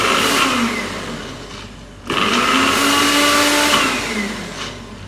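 Blender pulsing chopped gherkins into vegan mayonnaise for tartar sauce, two loud close motor bursts with a whirring, rising pitch, the second starting abruptly after a brief dip.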